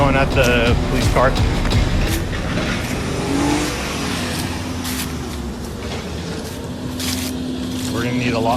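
A car engine revs and roars nearby as the car drives at a police car while agitated voices talk over it, the motor surging then settling into a steady drone.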